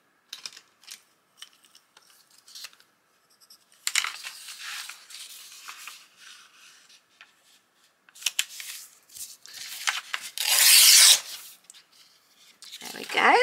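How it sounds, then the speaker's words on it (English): Scissors snip a paper template sized to a small golden children's book spine, cutting in short intermittent bursts with a louder rustle and snip of paper near the end; no speech. "So now I'm just going to cut a template of the actual space of the spine."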